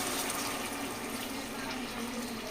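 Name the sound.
half a glass of water poured into prawn curry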